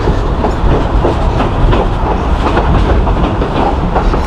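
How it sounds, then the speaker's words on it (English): A Durango Silverton railroad train pulled by a single locomotive runs downhill, its wheels making a loud, close, continuous clickety-clack rumble over the tracks. "And now we have 1 single locomotive pulling us"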